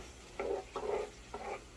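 A Pampered Chef meat masher stirs and breaks up meat in a pan, making three short scraping, sizzling strokes with brief gaps between them, close by and moderately quiet.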